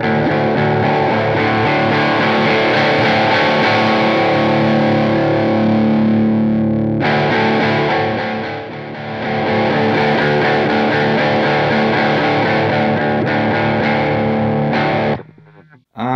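Electric guitar through a JHS Morning Glory V4 overdrive pedal at a light-to-mid gain setting, dense sustained overdriven chords ringing continuously and loud, with a brief dip mid-passage before stopping abruptly.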